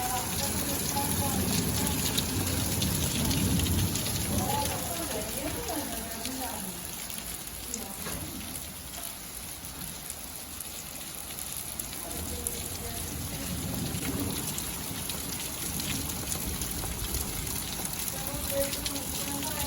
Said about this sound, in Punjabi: ਬੜਾ ਸੋਹਣਾ ਮੀਂਹ ਪੈਂਦਾ